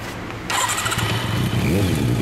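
A Kawasaki Zephyr χ Final Edition motorcycle fitted with a Moriwaki exhaust starts up after a brief pause, then settles into a loud, close, steady idle with a rough burbling pulse.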